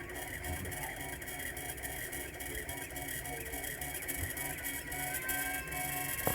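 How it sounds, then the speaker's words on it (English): A small 3D printer prints a PLA jeweller's peg, a continuous mechanical whir with busy rattly ticking from the moving parts, steady and close throughout with no talking. "This little machine's been running really well. It is making a lot of sort of rattly noises"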